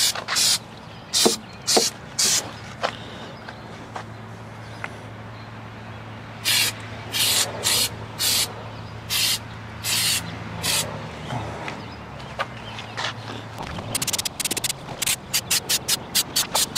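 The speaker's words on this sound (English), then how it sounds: "So we got a can of Flexseal." A can of black Flex Seal rubber sealant sprays onto mesh lining a raised garden bed, in repeated short bursts of hiss, some a second or two long and others rapid and choppy, close to the microphone with a low hum behind.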